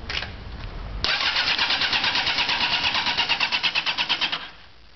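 A motorcycle engine with a carburetor cranks and tries to start, a short burst then a loud, rapid, pulsing churn of the starter that fades out near the end, close and without speech.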